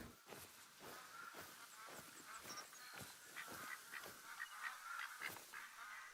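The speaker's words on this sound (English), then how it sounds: "I hear ducks all around me, like I'm about to be attacked by ducks." Wild ducks call on all sides in theHunter: Call of the Wild, a hunting video game, as a steady spread of soft, repeated quacks and honks at middle distance, some nearer and some further off.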